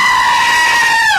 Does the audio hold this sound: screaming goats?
yes